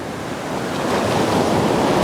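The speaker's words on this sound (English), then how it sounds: "I thought the camera was gonna fall over as all these waves are coming in" Ocean waves roll onto the shore in a steady, loud wash of surf, building slightly toward the end, with wind buffeting the microphone and no voices.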